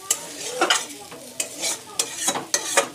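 Capsicum and vegetables sautéing in spice masala for a vegetarian shahi mix paneer, a frying hiss broken by repeated quick scraping stirs of a spatula against the pan, no talk.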